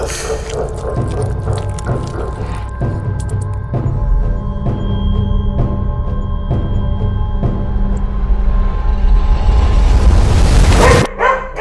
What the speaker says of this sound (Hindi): मारूक की ओर देखकर जोर जोर से भौंकने लगा